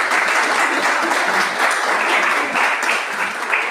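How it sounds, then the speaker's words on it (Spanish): Steady applause from a crowd at a panel discussion, a dense wash of clapping that holds at an even level for several seconds with no voices on top. "Un aplauso, por favor."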